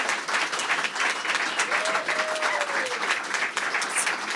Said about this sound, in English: I would like for you to keep that love and applause going